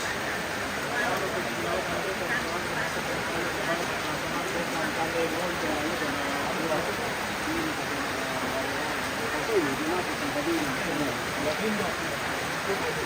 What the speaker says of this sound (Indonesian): Sedang hujan deras.